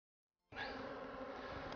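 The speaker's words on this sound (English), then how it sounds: "all the bees that I'm shaking off are just flying right back into the hive" Honeybees swarm around an open hive as frames are moved and shaken, a dense, steady buzzing that starts abruptly and carries on close and continuous.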